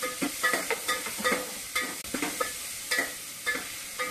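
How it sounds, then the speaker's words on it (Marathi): Red pumpkin and drumsticks sautéed in a pan for sambar sizzle steadily while a utensil stirs them in a regular scraping rhythm, close up and with no talking. "हे आपलं 2 मिनिटं परतून घेऊया।"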